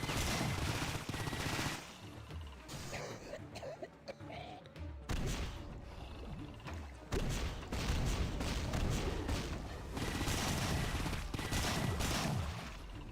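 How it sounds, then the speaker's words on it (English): Rapid weapon fire and explosions from rocket combo attacks in the video game Painkiller, a dense loud barrage of booms and bursts with brief lulls, continuing nearly nonstop throughout. "Gonna hit them all with the old rocket combo."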